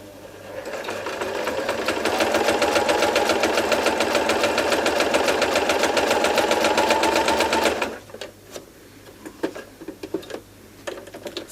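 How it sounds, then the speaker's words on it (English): A sewing machine stitches a buttonhole in fabric, a fast, steady mechanical whirr with rhythmic needle ticks for several seconds before stopping, followed by a few soft clicks and handling noises. "when we lift our foot, you can see the little buttonhole that we've created there"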